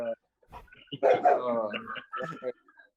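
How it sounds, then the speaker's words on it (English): A dog barks and yips in a few quick, close bursts over roughly three seconds, loud against an otherwise quiet background. "Oh, I hear the doggy. Where's the dog?"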